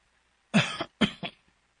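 A man coughs twice in close succession, each a harsh, chesty burst with a short raspy tail, close and fairly loud against a quiet background.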